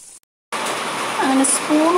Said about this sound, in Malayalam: ഓരോന്നോരോന്നായിട്ട് വറുത്ത് കോരുക.